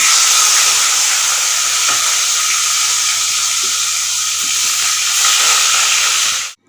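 Loud, steady hissing sizzle of salted, turmeric-coated fish heads frying in mustard oil in a wok, continuous and close, cutting off abruptly at the end.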